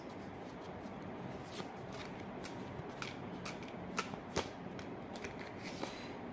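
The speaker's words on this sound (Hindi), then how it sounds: "और shuffle कर लेते guys." Tarot cards being shuffled by hand, a soft steady riffling with several crisp card snaps, close and fairly quiet with no talk.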